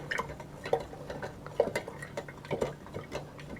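A spoon clinks and scrapes rhythmically against a container as milk is stirred with sugar and soy powder, with soft regular taps close by.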